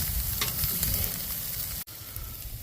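Chopped beef and onions sizzle loudly on a flat cooking surface while being stirred, a dense continuous crackle with a brief sudden cut near the end.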